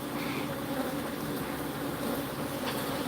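Bees drone loudly around a hive, a dense, continuous buzzing swarm close to the listener, steady and unbroken with no talk.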